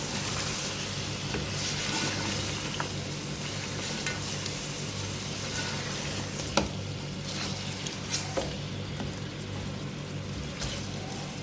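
Ground spices, garam masala, coriander, cumin, nutmeg and mace, fry in a pan for chicken Sindhi biryani, giving a steady close sizzle with occasional stirring scrapes and soft clicks of a spoon.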